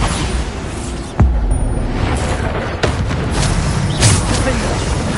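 Bombarda spell blasts in Hogwarts Legacy combat: a sharp boom followed by further heavy impacts and rumbling, mixed with battle noise and a voice speaking.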